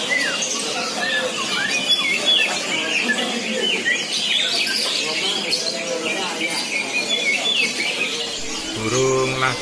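Several caged birds chirp and call busily at an open bird market, including a magpie robin (murai) among the chatter, with people talking nearby under the steady birdsong.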